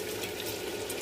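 Water being poured into a pot while cooking Tunisian wedding couscous with lamb, a brief steady splashing, gushing stream at moderate volume.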